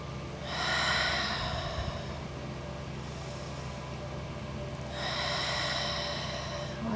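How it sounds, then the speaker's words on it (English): Slow, deep nasal breathing during a beginner yoga class: two long airy breaths, each a few seconds, close and steady over a low room hum, with no talking. "Inhaling and exhaling through your nose."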